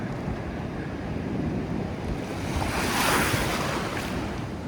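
Ocean waves break and wash onto a beach nearby, a loud continuous surf roar that swells to a peak midway, mixed with wind buffeting the microphone.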